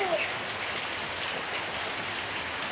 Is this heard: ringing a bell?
no